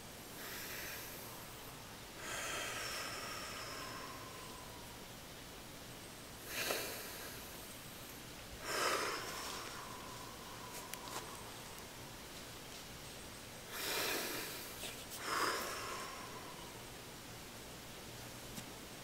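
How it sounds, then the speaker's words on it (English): Slow, deliberate breaths drawn in and let out, several long airy breaths spaced apart over a very quiet background, close to the microphone. "How it goes is inhale and then move with the exhale."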